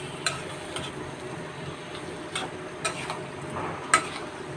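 Onions frying with salt in a pan, a steady soft sizzle with a few sharp ticks and scrapes of stirring, close and alone.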